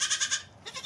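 Baby goats bleat in a quick run of several close, loud, wavering cries, then a shorter second call after a brief pause.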